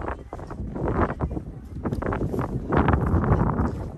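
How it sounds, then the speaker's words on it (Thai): Strong, cold wind gusts across an open valley at an abandoned historic mining town on a sunny day, roaring in uneven, buffeting bursts against the microphone with no talk. "แดดดีมากเลยเนาะแต่ลมนี่มาไม่พักเลย ลมมันแรงลมเย็น"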